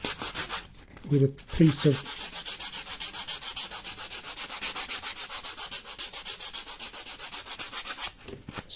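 Sandpaper rubbing against a scale model WW2 gun emplacement, a steady scratchy sanding stroke that continues for several seconds, preceded by a short burst of talk near the start.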